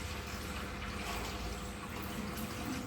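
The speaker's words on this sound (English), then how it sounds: "A sufficient quantity of water is poured into the chamber after removing this perforated" Water pours steadily into the chamber of a laboratory autoclave once its perforated basket is lifted out, a continuous low splashing wash heard close up at fairly low level, with no voices.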